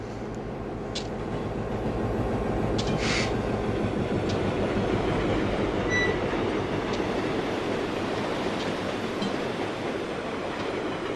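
A freight train on the Stevens Pass route in Train Simulator 2014 rolls past with a steady rumble and rhythmic wheel clatter, heard alone at moderate loudness for the whole stretch.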